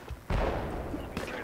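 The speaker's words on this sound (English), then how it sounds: "Firing from north." A single loud gunshot boom with a long rolling tail in Project Reality combat, a sharp blast that fades out, followed by a second quieter crack.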